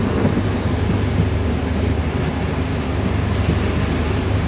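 The Jaffna to Colombo Intercity Express rumbles along its track, a loud continuous roar of wheels and carriages from inside the train with faint squeals riding on top, no voices.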